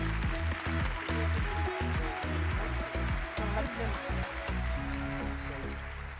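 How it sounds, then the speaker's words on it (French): Applause from an audience at a company award ceremony in France as a prize is presented, a steady wash of clapping that runs throughout over music and some talk. "On peut applaudir."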